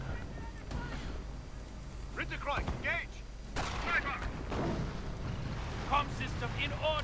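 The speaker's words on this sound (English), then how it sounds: "And more rockets." Rockets firing and exploding in a war strategy video game, a scattered series of booms and blasts amid battle noise, with a commentator talking over them throughout.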